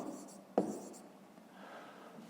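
Pen scratching faintly across paper while working a fifth-grade math exercise, with a brief tap near the start and soft, steady strokes after.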